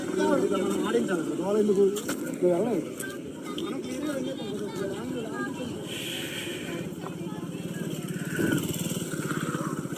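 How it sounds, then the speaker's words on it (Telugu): Small motor vehicles putter and buzz past at close range, engines rising and fading, with people talking over the traffic noise. "ఆటోలు కూడా వెళ్తున్నాయి"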